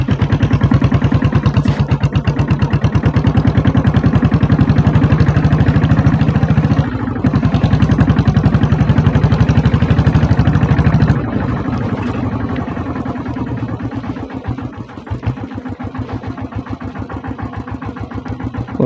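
A diesel Bullet motorcycle with self start fires up and settles into a loud, close, steady thumping idle, the beat loosening slightly later on.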